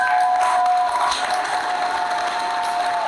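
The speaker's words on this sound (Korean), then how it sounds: "스님께 다시 한번 큰 박수 부탁드리겠습니다" An audience at an international Buddhist expo applauds a monk with steady, dense clapping. A faint held tone runs beneath it throughout.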